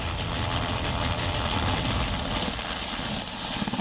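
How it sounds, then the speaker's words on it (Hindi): An Mi-17 multipurpose military helicopter, a loud, steady rotor and engine roar with throbbing vibration, continuous throughout. "ये Mi-17 मल्टीपर्पज हेलीकॉप्टर है, सर्च एंड रेस्क्यू में पारंगत।"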